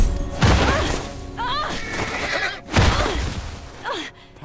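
A loud horse whinny in The Last of Us rises and breaks as the horse dies, followed by heavy thuds and a second strained neigh, with crashing impacts between.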